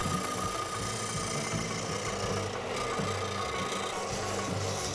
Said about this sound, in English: I'll go back out to the sander and round off the end pieces and just smooth them out.